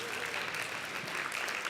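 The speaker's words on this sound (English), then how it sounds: "Give yourselves a round of applause" Brief audience applause at a talk on social networking success, a soft, steady patter of many hands clapping at moderate distance, fairly quiet and continuous for under two seconds.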